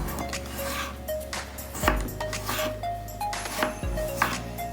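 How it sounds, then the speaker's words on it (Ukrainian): Kitchen knife slicing a ripe avocado into very thin strips on a board for poached-egg toast, a series of soft cuts with a few sharper knocks against the board, close and fairly quiet, with no voice. "Нарізаємо наше авокадо ось такими полосками."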